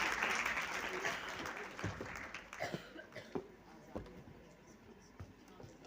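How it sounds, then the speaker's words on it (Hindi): A quiet round of applause from students and guests at an International Women's Week programme starts as a brief dense burst, then thins into scattered individual claps and a few coughs. "मैम के लिए एक बार तालियां हो"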